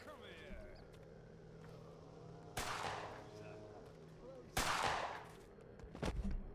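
Gunfire in the video game Pathologic 2: two loud, distinct gunshot bursts with trailing echoes amid quiet game ambience, followed by a cluster of quieter impacts.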